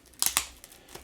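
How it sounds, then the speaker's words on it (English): An oversized plastic shopping bag from a comics package being handled: two sharp crinkling rustles close together, then faint scattered crackles, close and alone with no talk. "plastic bag. It's kind of oversized shopping bag or something that they put the comics in."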